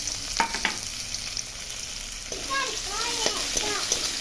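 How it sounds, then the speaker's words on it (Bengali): Onions sizzle in hot oil left over from frying pabda fish, a steady crackling hiss close by, with a few sharp stirring scrapes and faint bird chirps in the background. "ওই তেলে এখন পেঁয়াজগুলো ছেড়ে দিচ্ছে।"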